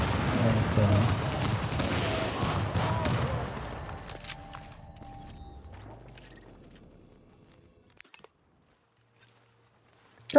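An AK rifle fires in a video game, a heavy burst of overlapping shots and booms that loudly fills the first few seconds, then tails off into scattered faint clicks and near silence.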